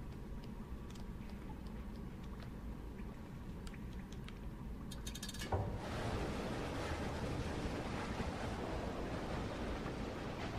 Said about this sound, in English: Oh, that's some cool water effects.